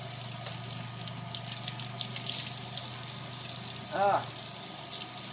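Tap water runs steadily into a sink while meat is rinsed, a continuous hiss with a brief louder splash near the end, close by and without speech.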